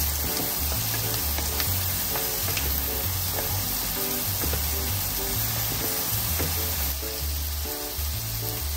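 Chopped tomatoes sizzling and frying in a pan while cooking tortang giniling, a steady loud crackle with a rhythmic low thumping layered throughout.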